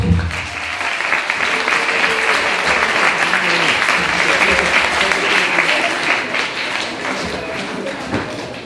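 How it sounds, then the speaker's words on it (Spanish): Audience applause at a book fair in Heredia, a dense, steady clapping from a seated crowd that holds loud for the whole stretch, with faint voices mixed in underneath. "Fuertes aplausos."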